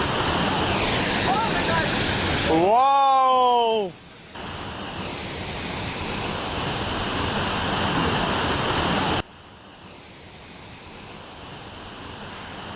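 Waterfall in Cebu, Philippines: a steady, loud broadband roar of falling water fills the scene, with a man's excited exclamation cutting in briefly near the start.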